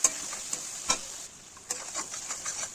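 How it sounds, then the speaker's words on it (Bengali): Spices with ginger sizzling in oil for Bengali chicken kosha, a soft steady frying hiss with a few sharp ticks and scrapes of stirring, close and fairly quiet with no talking. "তারপর একে একে হলুদ গুঁড়ো, শুকনো লঙ্কা গুঁড়ো, জিরে গুঁড়ো, ধনিয়া গুঁড়ো এবং স্বাদ মতো নুন দিয়ে ভালো করে কষিয়ে নেব।"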